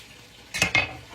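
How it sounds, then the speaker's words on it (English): Two quick scraping strokes of a spoon stir chicken and dumplings in a pot, short close swishes against a quiet background. "Give it a little quick stir."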